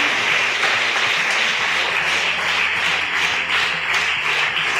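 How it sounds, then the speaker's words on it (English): Audience at a school quiz competition on National Space Day applauding a contestant, steady sustained clapping from a crowd filling the whole stretch. "Big round of applause for Jasmine"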